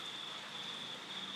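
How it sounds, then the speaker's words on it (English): Rain falling outside on a Saturday morning, a soft continuous patter and hiss of drops on surfaces, steady and fairly faint, with a thin high tone running through it and no voices. "And it is raining."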